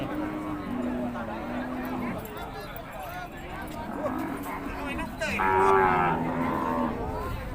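Cattle moo repeatedly at a busy Som Poi cattle market, several drawn-out lows rising out of constant crowd chatter and nearby voices.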